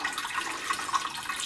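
Cold tap water pouring steadily into the carafe of a Bunn Speed Brew Classic coffee maker, a continuous, moderately loud splashing trickle with no talking.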